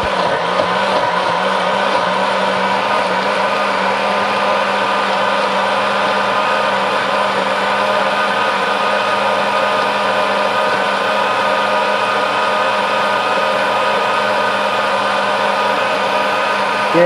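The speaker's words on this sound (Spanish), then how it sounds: "Ahora sí, vamos a licuar" A blender whirs steadily at full speed while blending a spicy red sauce for chicken thighs, a loud continuous motor drone with no pauses and no talking.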